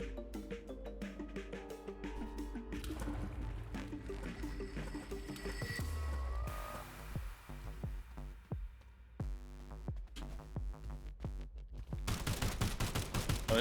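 The drifter gun in the video game Sulfur firing amid busy in-game music and effects, with repeated shots and impacts over a dense, continuous background.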